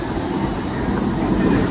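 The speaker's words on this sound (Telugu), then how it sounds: "అప్పటి వరకు ఈ ట్రైన్ని చూస్తున్నాను" A train rolls past at a Hyderabad station with a loud, steady rumble of wagons and faint voices underneath.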